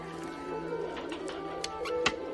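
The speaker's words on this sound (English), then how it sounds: "Grab a pigeon." A pigeon in a cage, part of a market scene, gives soft low coos among faint clicks and background ambience, moderately close and not loud.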